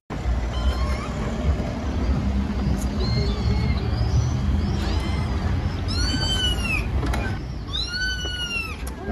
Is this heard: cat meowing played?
yes